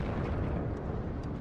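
Deep rumbling booms from artillery shelling in the real-time strategy game WARNO, a dense continuous roar with no distinct separate blasts.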